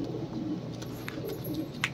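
Soft, low cooing from pigeons repeats close by, gentle throaty murmurs with a faint flutter near the end.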